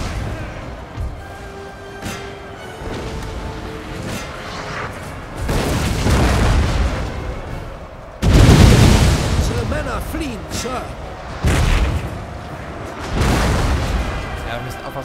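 Heavy booms from grenades in the historical strategy game Napoleon: Total War, with several loud blasts spaced a few seconds apart over ongoing battle noise, while someone talks in German.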